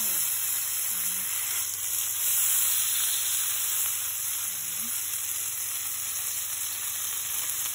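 Pork wrapped in bacon with butter pan-frying before going into the oven, producing a steady, even hiss of sizzling fat with a faint murmur in the background.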